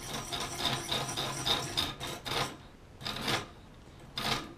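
A Gerber multi-tool knife blade is drawn across a sharpener in a series of close, raspy strokes, some rapid and rhythmic and others separated by short pauses.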